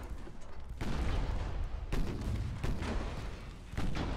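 Naval guns fire on a ship in the naval warfare game Ultimate Admiral Dreadnoughts, with Italian 1940 semi-armor-piercing shells. Heavy booming blasts come in a loose series of four or five, each followed by rolling rumble.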